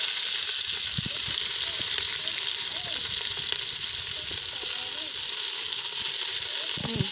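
Food sautés in hot oil in a home kitchen, a steady bright sizzle with scattered clinks and scrapes of stirring throughout, close and continuous, with a voice speaking now and then.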